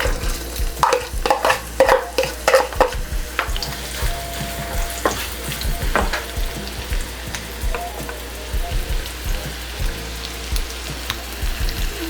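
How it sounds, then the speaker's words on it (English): Onions sautéing in mustard oil in a wok, a steady close sizzle broken by repeated scraping stirs, busy in the first few seconds and then more spaced, with no talking. "we got our mustard oil in the wok. Saute our onions."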